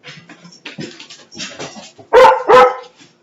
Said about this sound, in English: It's more dogs.